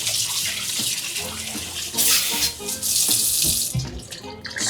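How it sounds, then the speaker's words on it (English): Tap water running into a sink while raw chicken is rinsed, a steady close splashing stream with brief bursts as the pieces are handled. "Just give it a good rinsing."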